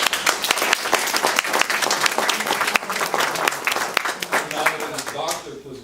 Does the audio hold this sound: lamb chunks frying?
no